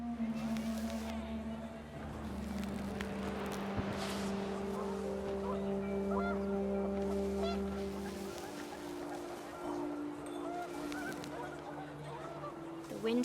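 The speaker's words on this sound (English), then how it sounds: "The wind picked up, and panicked geese appeared and quickly went" Panicked geese honk in a gusty outdoor scene from the video game What Remains of Edith Finch, a dense layered bed of calls and rumble with a sustained low drone, steady and fairly loud throughout.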